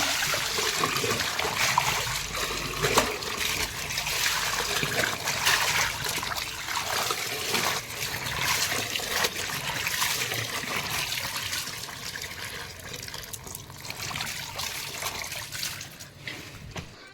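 Water runs steadily from a tap while something is rinsed and washed at home, a continuous close splashing rush with faint trickling that holds throughout without talk.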